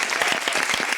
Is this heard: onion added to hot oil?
no